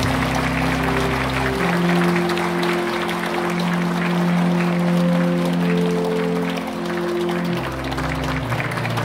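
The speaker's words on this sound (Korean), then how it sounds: "축하 박수 부탁드리겠습니다" Congregation members in a Catholic church applaud during a feast-day flower presentation for a nun, a soft, steady wash of many clapping hands heard behind sustained organ or keyboard tones.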